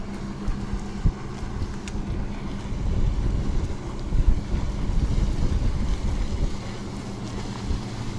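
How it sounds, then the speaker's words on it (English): A large sailboat moves past on open water, with steady wind buffeting the microphone and waves washing throughout. "a big sailboat's coming out"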